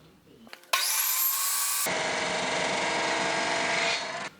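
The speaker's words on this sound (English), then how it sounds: "Get my chop saw out, get some measurements off this thing." A chop saw cuts through 1-inch steel angle iron in a workshop, a loud continuous grinding whine that starts abruptly, shifts in pitch midway and then cuts off.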